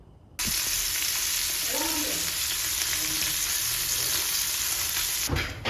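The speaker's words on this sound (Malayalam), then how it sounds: "മീൻ വറുത്തുകൊണ്ടിരിക്കുകയാണ്" Mackerel fish fries in a pan in a home kitchen, giving a steady, loud sizzle of hot oil that runs continuously with faint stirring and clinks beneath, cut off briefly near the end.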